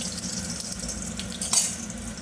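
Panch phoron seeds sizzle in mustard oil in a kadai, a continuous close hiss with a brief louder spit and crackle partway through.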